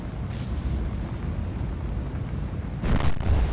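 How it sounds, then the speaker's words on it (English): A ship explodes in the naval combat game War on the Sea during an ambush in Operation Watchtower: a deep rumbling roar of blasts with a sharper burst near the end, loud and without speech. "another massive explosion. This one at the front of the ship"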